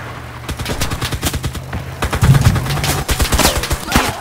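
Automatic gunfire rattles in the battle royale game CRSED: F.O.A.D, rapid loud bursts of shots fired in quick succession with some heavier impacts, continuous and close throughout.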